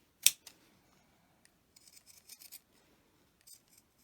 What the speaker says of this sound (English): if you're not used to using your pinking shears, especially if they're big like this.